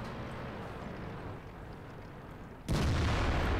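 A tank gun fires in World of Tanks, one sudden loud boom near the end that breaks over a low rumbling engine and battlefield background.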